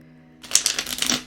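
A deck of playing cards is shuffled close by: about a second of quiet, then a quick run of crisp riffling clicks and flutters with no voices.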